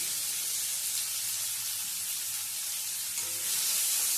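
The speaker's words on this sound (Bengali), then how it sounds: "পেঁয়াজ কুচিটা ভেজে নেব।" Two medium onions, finely chopped, fry in hot oil with cumin, giving a steady, even sizzle and hiss that holds throughout and swells slightly near the end.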